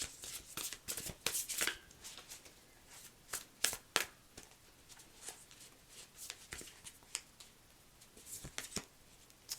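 Oracle cards are shuffled close by in quick riffling bursts, crisp papery flutters and taps coming in irregular clusters, fairly quiet with no talk.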